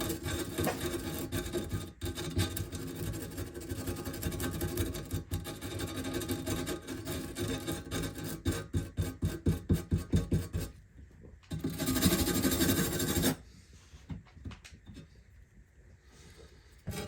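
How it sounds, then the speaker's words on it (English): A wire brush scrubbing old gasket off a 1924 Model T inspection cover, close and rapid rasping strokes in an uneven rhythm, then a few slower, lighter scrapes toward the end. "Just the wire brush."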